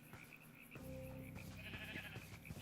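Faint sheep bleat from Minecraft VR among pigs and sheep, a wavering call rising midway over quiet game ambience and soft clicks, with no speech.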